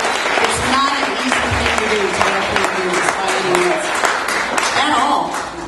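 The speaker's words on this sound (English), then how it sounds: "So everybody, a round of applause for everybody that competed tonight." Audience applause for competitors at a country music talent contest in Sheridan, Wyoming, steady clapping throughout with a loud voice speaking over it.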